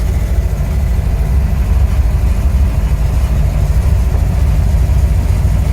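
A 1990 LuAZ 969M with its engine running, a loud, close, steady low rumble with a rough throbbing texture and no talking.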